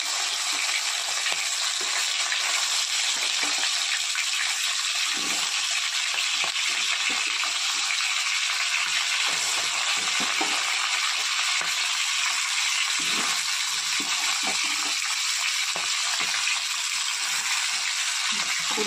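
River fish frying in hot oil, a dense, steady sizzle and crackle that carries on loudly throughout with occasional stirring clicks.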